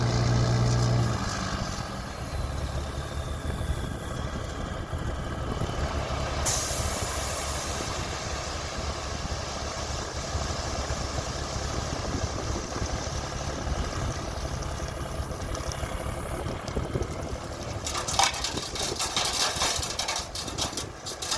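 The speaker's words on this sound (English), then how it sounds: "The tailgate of this particular dump truck, and most of them are probably like this, can be chained so it lets out just a little bit." A dump truck delivering and unloading gravel through a chained, partly opened tailgate: a steady diesel engine rumble and hiss holds for the whole stretch, growing rougher and busier near the end.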